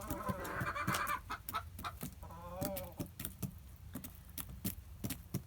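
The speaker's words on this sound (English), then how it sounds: "You can crow for us, Enigma?" A pet rooster named Enigma clucks and calls close by in short bursts, with a drawn-out vocal call partway through and sharp clicks and taps scattered throughout, no talking.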